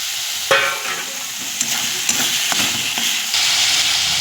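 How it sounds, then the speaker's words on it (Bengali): Black pepper and cumin paste with tomato frying in a pan: a loud sizzle that flares as ingredients hit the oil, then settles into steady hissing with occasional spatula knocks, up close and without speech. "এটা ভাজতে থাকি। এবার একটু গোলমরিচ আর জিরে বাটা দিলাম, দিয়ে টমেটোটাও দিয়ে দেবো।"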